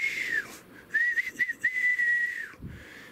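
A person whistles a sustained, wavering tone in a few phrases, fairly close, with a soft thump near the end.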